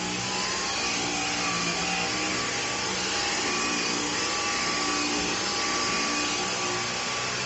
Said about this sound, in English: Let's test it out on the carpet.